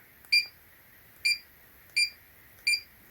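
A digital BBQ grill and smoker meat thermometer timer gives four short, high electronic beeps at a steady rhythm, close and clear against a quiet background, with no talking.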